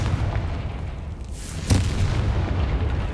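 The Confringo explosive spell in Hogwarts Legacy bursts with a single sharp boom amid a dense, rumbling roar of combat that stays loud throughout.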